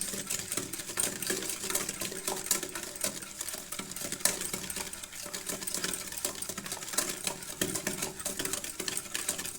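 Yogurt is beaten hard in a bowl, the whisk ticking against the sides in a dense, fast, continuous rattle that stays close and steady for the whole stretch, with no voices over it.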